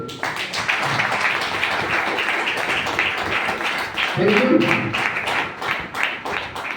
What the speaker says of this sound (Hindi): तो आप अपने लिए जरूरत ताली बजा सकते हैं।